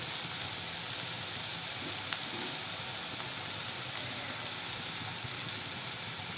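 Curry leaves sizzling in hot oil for Thrissur-style dal with spinach, a steady bright hiss running evenly throughout without talk.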